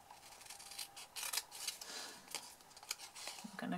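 Scissors cutting down the score lines of a folded paper box, a quiet series of short crisp snips and rustles, close and faint, with light handling noise.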